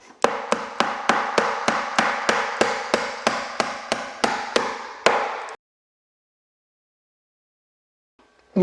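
Hammer blows driving nails into Douglas fir wood cladding on an interior job, a steady run of about seventeen sharp, evenly spaced strikes, loud and close, then stopping abruptly into silence.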